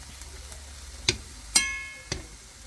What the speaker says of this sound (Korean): 마트에서 산 부채살을 열심히 구워서